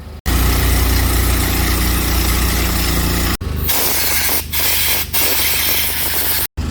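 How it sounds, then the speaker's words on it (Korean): Mercedes C250 car blower motor being cleaned, a loud continuous spraying and whirring rush that runs steadily, drops off briefly, then resumes with a rougher, mechanical texture and short interruptions near the end. "이 블로우 모터를 이제 클리닝을 진행을 합니다."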